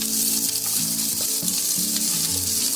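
Masala roasts in a little oil on a hot tawa with a close, crackling sizzle, broken by scraping stirs that come in a loose, repeated rhythm.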